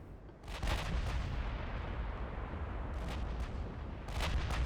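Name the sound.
battle cruisers firing guns in naval video game Ultimate Admiral Dreadnoughts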